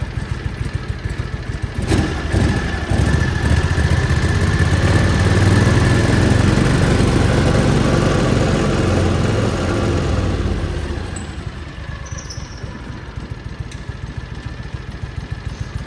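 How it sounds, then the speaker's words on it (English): A John Deere Gator 6x4 utility vehicle running on one cylinder, its engine revving up loudly and holding a steady, rough drone for several seconds close by, then dropping back to a lumpy idle. "But whenever I rev it up"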